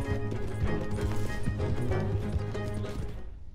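A horse gallops off in Red Dead Redemption 2, with loud, rapid hoofbeats and clattering that continue steadily before fading at the end.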